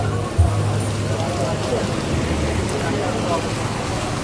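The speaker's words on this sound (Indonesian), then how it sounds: "Hari hujan-hujan nih, trip yang terakhir." Steady rain patters on a bus parked at the Bareh Solok bus terminal, a continuous close wash of drops on the vehicle with a faint low rumble beneath and no speech.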